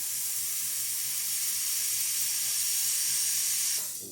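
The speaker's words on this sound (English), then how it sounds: "let's test the steamer" Steam wand of a Breville Oracle Touch espresso machine steaming after a service and tune-up, a loud, continuous airy hiss held steadily before cutting off abruptly near the end.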